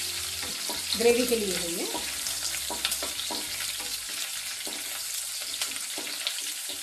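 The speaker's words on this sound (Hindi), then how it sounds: "करिया पात थोड़ा फ्राई करेंगे।" Curry leaves and green chillies frying in a pan of hot oil, a steady sizzle with stirring clatter while someone talks over it.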